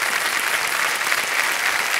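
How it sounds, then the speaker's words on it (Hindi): A studio audience on Kaun Banega Crorepati Season 14 bursts into loud, dense applause for a contestant's big win. The crowd clapping is close and full throughout, with no pauses. "तालियां बज जाएं उनके लिए।"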